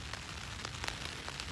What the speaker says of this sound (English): This tent has been getting rained on since about 3 o'clock